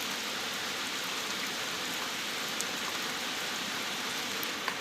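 Steady rain falls over an open pasture where cattle are kept, giving a dense, even hiss with faint scattered drops, continuous and fairly close throughout, with no voices.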